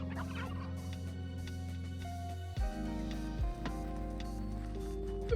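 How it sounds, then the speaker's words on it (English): Turkeys in a video game gobble amid steady, layered game sound, with tonal drones and music-like tones shifting partway through, fairly quiet overall. "just more fucking turkeys"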